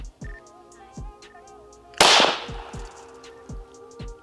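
A single loud firearm shot fired at a target on a range rings out with a sharp crack and a decaying tail, amid faint background tones and quiet ambient thumps before and after.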